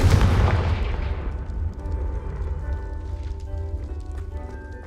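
A Confringo fire blast spell goes off in Hogwarts Legacy as a loud booming explosion at the start, then a rumbling decay that fades into lingering ambient game sound.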